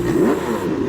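A voice imitates a Mercedes G-Wagon engine, giving a short, throaty growling roar that rises and falls, close and loud, lasting under a second.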